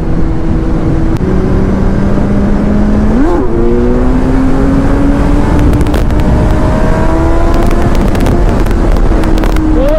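A Kawasaki Z900 motorcycle cruises along an open ring road, its engine droning steadily up close with gear shifts and rising revs, all wrapped in constant heavy wind rush.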